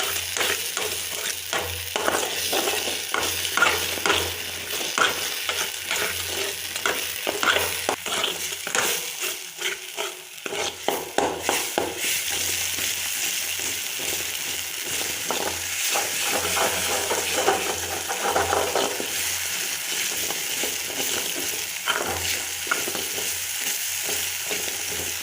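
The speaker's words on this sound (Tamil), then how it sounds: "ஒரு 5 நிமிஷம் நல்லா வதக்கணும்" Ginger sizzles steadily in hot sesame oil while a utensil scrapes and stirs the pan in irregular bursts, close up and continuous.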